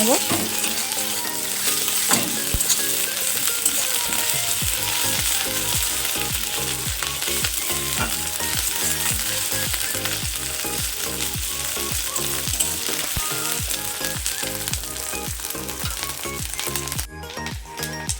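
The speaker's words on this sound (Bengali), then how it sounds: "এখন দিয়ে দিয়েছি একটু আদা বাটা দিয়ে একটু ভালো করে কষিয়ে" Ginger paste sautés in oil for a fish curry, a loud continuous sizzle broken by repeated scraping and clinking of a spatula stirring the pan.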